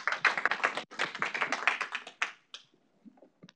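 Audience applause at an artist-in-the-lab talk held in an intimate museum setting: dense hand clapping from a small crowd for about two seconds, then thinning to a few scattered claps before quiet.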